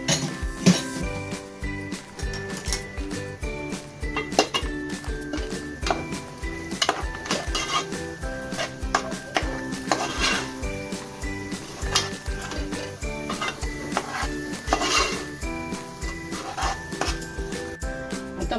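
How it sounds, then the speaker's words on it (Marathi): Onion and coconut paste being stirred and sautéed in hot oil in a pan while cooking mutton mundi, with steady scraping, clinks of the spoon against the metal pan and a continuous soft sizzle throughout. "आता आपण त्याच्यात कांदा खोबऱ्याचं वाटण घालून घेऊया."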